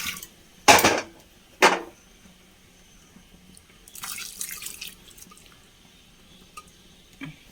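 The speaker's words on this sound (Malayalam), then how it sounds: "വെള്ളം ചേർത്ത്" Water poured into a pot of Kerala-style roasted-coconut sambar in a home kitchen: two short splashy pours near the start, then a softer spell of trickling and light clatter, with no talking.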